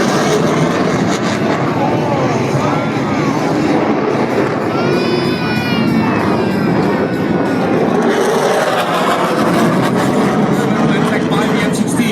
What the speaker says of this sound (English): From your right, 2 F-15s, maneuvering for a similar strike.